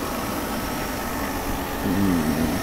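Mercedes R129 300SL with the M104 engine idling: a steady low mechanical hum and rumble, with a faint tonal whine rising toward the end.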